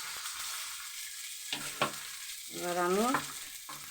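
Fried fish added to hot oil with panch phoron and green chilies, giving a loud burst of frying and sizzling with stirring clatter and a brief spoken voice between.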